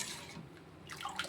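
Cooked red rice is poured into coconut milk for a mango juice drink, giving a quiet, soft liquid splashing and trickling that runs steadily for a second or so.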